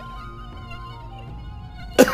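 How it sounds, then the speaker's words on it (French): A small mosquito whines with a thin, steady buzz close to the ear, over a faint musical background, ending in a sudden brief burst of noise. "Dieu lui envoya un misérable petit moustique."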